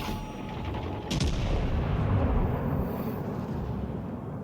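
Battleship main guns fire in World of Warships Legends: a sharp, loud salvo crack gives way to a long, heavy rumbling boom that rolls on and slowly fades, with no voices.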